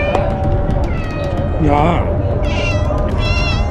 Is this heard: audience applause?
no